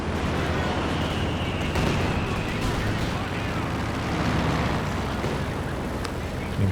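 Katyusha rocket artillery fires during a Company of Heroes 2 2v2 match, a continuous roar of launches and blasts in dense battle noise, with a commentator talking over it throughout.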